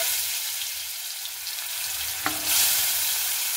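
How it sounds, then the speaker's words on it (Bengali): Washed potatoes fry in oil in a wok with a continuous close sizzle, one sharp clink of a utensil, and then a louder burst of hissing near the end. No one speaks. "এবার আমি আলুটাকে সেই লাল লাল করে ভেজে নেব"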